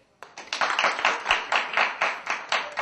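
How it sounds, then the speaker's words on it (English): A thin, sparse audience claps in a small theater, a few nearby hands producing a light, uneven rhythm of distinct claps for about two and a half seconds. "Hear how kind of shallow that clap is?"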